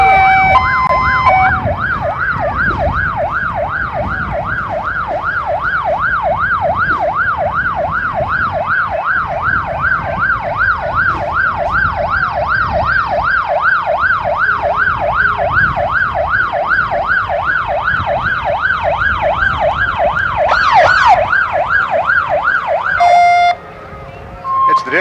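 Emergency vehicle sirens blare loudly in a fast, continuous wail that rises and falls during a football parade, with a brief horn blast near the end.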